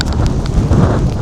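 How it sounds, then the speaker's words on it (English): Gusty wind outdoors in terrible morning weather in London, a loud continuous rumbling buffet filling the whole brief moment, with no voices. "I'm not sure if you can hear the wind."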